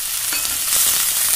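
Paneer and vegetables fry together in a pan for veg biryani, producing a loud, close, unbroken hissing sizzle with faint stirring over a brief moment and no voices.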